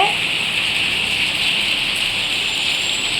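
Heavy rain pours steadily in a broad, unbroken hiss, loud and close with no pauses, and a voice is briefly heard under the downpour.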